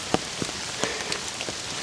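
Rain falling during a hike at the start of rainy season, a soft steady patter with a few sharper individual drops landing close by, quiet and without any talk.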